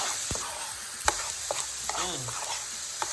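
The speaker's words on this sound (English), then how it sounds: "we're going to saute this for another 3 to 5 minutes" Vegetables with a couple tablespoons of soy sauce sautéing in a pan for vegetable fried rice, a steady sizzle with scattered clinks and scrapes of stirring; no one speaks.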